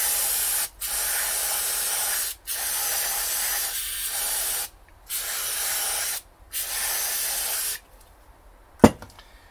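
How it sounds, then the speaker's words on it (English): Several long hissing bursts of aerosol spray onto a Triumph TR7 starter motor, each lasting a second or two with brief pauses between, followed by a sharp click near the end. "give this a spray."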